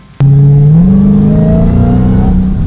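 A Dodge Charger Hellcat Redeye's supercharged engine is revved in track mode, snapping up from idle into a loud, sustained, steadily rising roar close by, with no talking.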